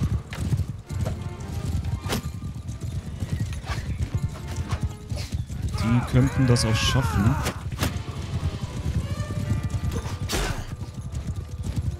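Hooves pound in a fast, continuous clip-clop while a horse gives a long whinny midway, cavalry in a Mount & Blade II Bannerlord battle, loud and near, with someone talking over parts of it.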